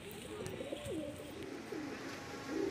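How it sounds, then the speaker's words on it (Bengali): Pigeons of a golden-eyed Kalo Dana bloodline coo close by, a steady run of soft, rolling low coos with a few rising and falling phrases over a quiet background. "এই হচ্ছে পায়রা।"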